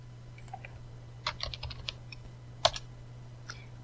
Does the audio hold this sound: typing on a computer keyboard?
yes